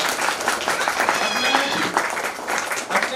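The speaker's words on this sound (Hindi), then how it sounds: "तो सर के लिए एक जोरदार तालियां।" A crowd at a retirement ceremony breaks into loud, close, sustained applause, with voices mixed in under the clapping.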